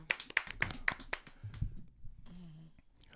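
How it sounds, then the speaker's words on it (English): A small group in a morning-show studio gives a quick run of about half a dozen close, sharp claps in the first second. Soft murmuring and a brief tone follow, all fairly quiet. "Let's clap."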